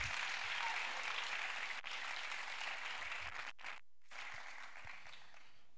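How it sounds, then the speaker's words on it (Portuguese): Congregation at a youth church conference applauds in a sustained, dense burst of clapping that fills the room, then briefly cuts out and resumes a little softer. "Dê um aplauso se você é crente."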